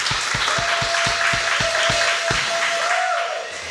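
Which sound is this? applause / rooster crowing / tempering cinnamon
applause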